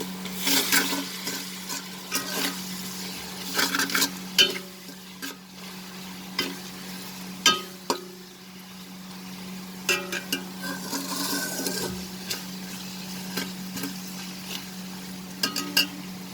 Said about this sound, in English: Lower the flame, friends, and now just mix the spices.